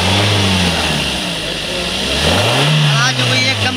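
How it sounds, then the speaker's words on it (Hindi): A Suzuki Ertiga car engine, just repaired for a noise fault, is revved up from idle and held loud and close, the pitch rising and settling, with a voice talking briefly over it. "ये स्टार्ट हो गई है, कोई दिक्कत नहीं। रेस दियो"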